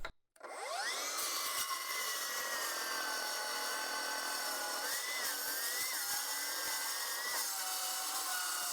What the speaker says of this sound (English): I can flip up my blade guard with my thumb and make a cut